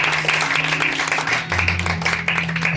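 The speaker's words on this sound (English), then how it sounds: "Round of applause for Max" A crowd at a Sthlm Sessions evening gives a round of applause for Max. The clapping is close, dense and continuous, with a low tonal hum running steadily underneath.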